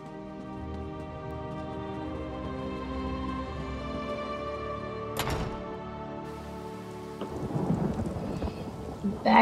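Rain and rolling thunder in Elder Scrolls Online, a steady bed of rain under game music tones, with a sharp thunder crack near the middle and heavier rain noise swelling toward the end.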